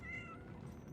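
A house cat meows softly, a faint drawn-out call heard close by in a quiet room.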